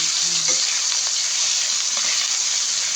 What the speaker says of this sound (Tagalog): Tapos hahaluin po natin para din sa ilalim.